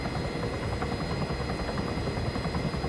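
A helicopter hovers in the video game ArmA 3, its rotor and engine making a steady, loud droning buzz throughout, with no talk.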